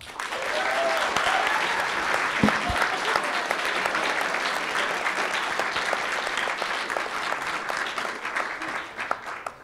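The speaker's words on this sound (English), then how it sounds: "Let's give everybody a round of applause." A university debate audience claps in sustained, dense applause that starts quickly and holds steady throughout, fairly close, with no speech over it.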